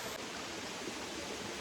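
Water pours steadily at Curug Baxter Falls, a broad, dense roar of falling water heard close and unbroken throughout, with no voices.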